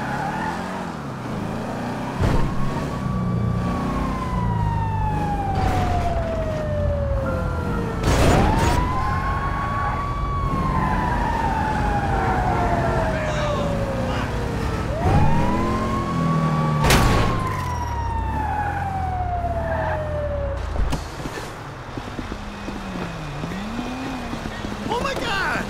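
A fire truck siren in the video game Grand Theft Auto V wails in slow repeating rises and falls over engine noise, with people talking throughout.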